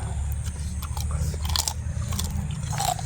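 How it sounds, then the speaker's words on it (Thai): Boiled crab being eaten at a crab buffet, with close, steady crunching and chewing of shell and meat throughout, no talking. "ทุกคนจะลองกินปูต้มครับ"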